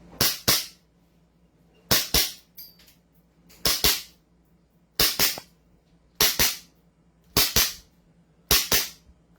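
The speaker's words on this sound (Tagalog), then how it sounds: "Kung paano pumutok ang isang CC Shadow." A CC Shadow airsoft pistol fires in sharp paired cracks, seven close, loud double shots evenly spaced about every second and a half, with quiet between them.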